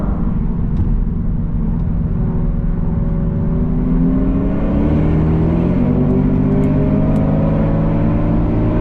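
A BMW M4 of 630 hp and a VW Golf R of 631 hp accelerate hard on an unrestricted autobahn, with a loud, continuous engine roar and wind noise whose tones climb steadily as the cars gather speed.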